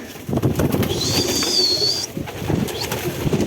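Pigeons coo softly in a low, burbling murmur close by, while a thin high whistling tone rises over them briefly.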